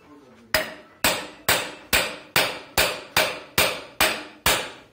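Steady, evenly spaced hammer blows ring out on steel rebar, about ten loud sharp clanks each trailing off with a metallic ring, close by.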